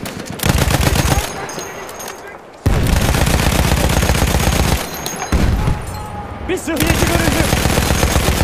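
Machine guns crackle in Battlefield 1 Conquest, loud sustained bursts with brief gaps between them, and someone speaks over the shooting.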